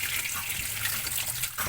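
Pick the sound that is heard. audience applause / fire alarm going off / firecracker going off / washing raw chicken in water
washing raw chicken in water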